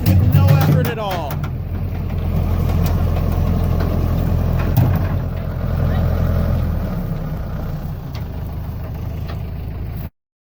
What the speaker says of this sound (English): Trey, this thing's gonna fire up with no effort at all.